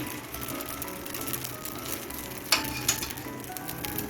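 Semolina appam batter sizzling steadily in a pan on low gas, a continuous frying hiss with a couple of sharp clinks partway through and no talking.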